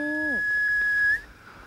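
Elderly woman on Gyeryongsan whistling to call wild birds: a sustained high pure whistle lasting about a second, dipping at the start and then cut off abruptly, heard alone and close.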